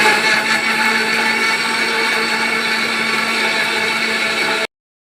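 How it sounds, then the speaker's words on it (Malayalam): A mixer grinder whirs steadily at close range as it blends banana, Boost, sugar and milk into a shake, a loud, constant motor drone that cuts off abruptly. "പാലും കൂടെ ഒഴിച്ച് നന്നായിട്ട് മിക്സിക്കകത്തുനിന്ന് അടിച്ചെടുത്തു"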